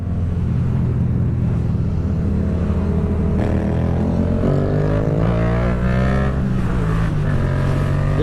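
Exhaust of a Yamaha MT-07 motorcycle fitted with an aftermarket exhaust, a loud, continuous low rumble that rises and falls as the engine revs up and down, close and alone, with no voices.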